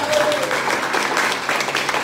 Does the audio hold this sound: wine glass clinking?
no